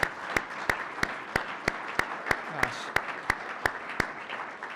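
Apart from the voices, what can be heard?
audience applause for recognized students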